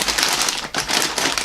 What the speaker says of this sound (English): rustling of the wrapper is what I meant to say